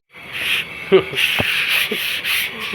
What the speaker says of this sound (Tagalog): tapos na natin liha, lihain.